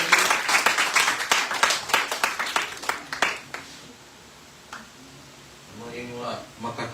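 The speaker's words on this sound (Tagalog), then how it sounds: "Palakpak sa lamos Ginoo" A church congregation during a Christian sermon breaks into a few seconds of scattered, rhythmic clapping that fades out, leaving near quiet before a voice resumes speaking.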